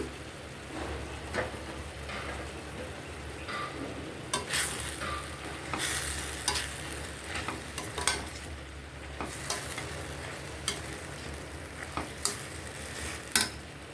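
Tomatoes and mint cook in a pan with a soft continuous sizzle, broken by occasional louder scraping stirs and small crackles.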